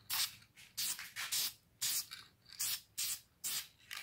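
Aerosol spray paint applied to a car brake caliper in a series of short hissing bursts, about eight in four seconds, close and alone with brief pauses between.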